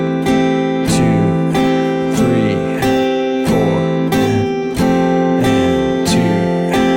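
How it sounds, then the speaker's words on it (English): An acoustic guitar plays the second half of the chorus of a song, with strummed chords struck every second or so and ringing out between strikes, loud and close. "let me play you that second half of the chorus"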